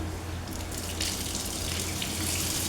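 Soya chunks being washed under a running kitchen tap, a steady broadband rush of water that grows fuller and louder partway through, with no voices.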